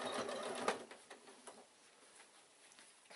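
A sewing machine runs straight across the top of a quilted evening bag, catching several fabric layers together, giving a faint, steady whirring patter that fades over a few seconds.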